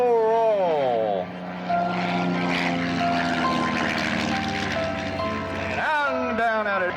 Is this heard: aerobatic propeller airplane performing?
yes